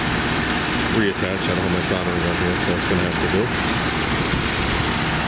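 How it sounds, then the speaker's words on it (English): A car engine idling with a timing light hooked up during an ignition timing check, a steady low rumble running throughout while someone talks close by over it. "That's what the car is idling out of here."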